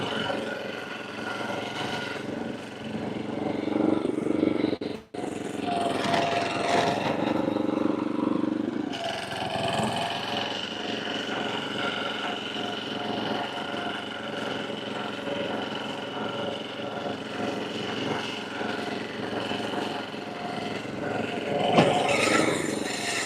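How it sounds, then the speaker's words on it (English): Lawn mower cutting grass on a fall lawn, a continuous steady engine drone with slight rattling and brief dips in load, running throughout at moderate, close range. "I like that I'm still cutting grass."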